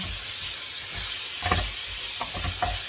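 Soft steady hiss of broccoli steaming in a non-stick frying pan, with a few light scrapes and taps of stirring.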